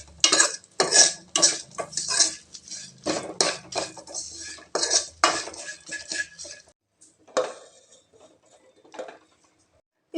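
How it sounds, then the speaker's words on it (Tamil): Curry leaves and tempering spices being sautéed in a pan for drumstick leaf keerai, with a metal spoon scraping and clinking against the pan in quick irregular bursts, close and fairly loud, trailing off toward the end. "இப்போ இதை நல்லா வதக்கிட்டு கீரையில் கொட்டிடலாங்க."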